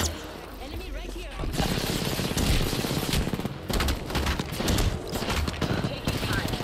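Rapid video-game gunfire in a battle-royale shooter, a quiet lead-in giving way to dense automatic bursts that rattle on in waves, loud and close, with game voice lines mixed in.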